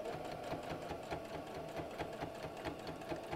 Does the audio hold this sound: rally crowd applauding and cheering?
no